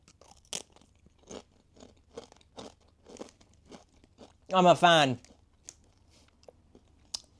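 Close, crisp crunches and chewing of crisps, with a burst of loud brittle crunching from a bite midway amid quieter rhythmic chews and mouth clicks, and a brief spoken remark.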